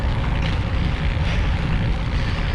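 Wind rushes steadily past a recumbent cyclist riding at about 23 to 24 miles an hour in a group on a long-distance Michigan tour, a loud, continuous broadband roar with slight buffeting.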